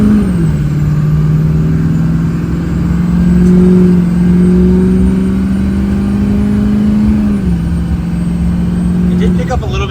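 A 20-year-old Duramax diesel pickup truck accelerating down the road, a loud steady engine drone from inside the cab whose pitch rises gradually, then dips near the end as it shifts or eases off.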